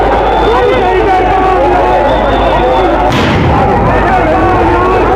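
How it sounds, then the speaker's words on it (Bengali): A sound grenade thrown by police at a teachers' protest in Shahbag, Dhaka, one sudden loud blast about midway through a dense roar of crowd noise and shouting, with people talking throughout. "দর্শক এই মুহূর্তে গ্রেনেড সাউন্ড গ্রেনেড কিন্তু নিক্ষেপ করেছেন আইন শৃঙ্খলা রক্ষাকারী বাহিনীর সদস্যরা"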